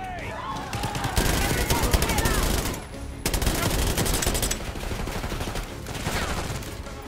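Heavy automatic gunfire from a Call of Duty: Black Ops 6 firefight, loud sustained bursts that crackle almost continuously, pausing briefly near the middle, with a voice speaking over the shooting.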